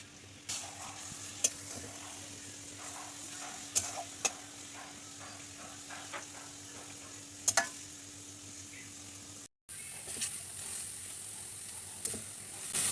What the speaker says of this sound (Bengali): একটা নারকেল গুড় দিয়ে মেখে চুলায় দিয়ে দিয়েছি